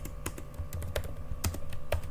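A handful of separate, close keystrokes as the ipconfig command is typed on a computer keyboard, spaced irregularly over a low steady hum.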